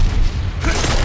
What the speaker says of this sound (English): I guess I'll just shoot him in the face with a rocket.